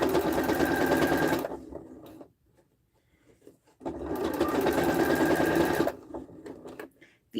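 Small Oliso sewing machine stitching patchwork fabric for a duffle bag, in two fast, steady, close bursts of rattling stitches with a quiet handling gap between them.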